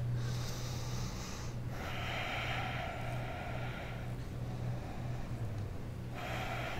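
Steady, forceful breaths during a supine dead bug core yoga exercise, heard as long sustained airy exhales and inhales over a constant low hum.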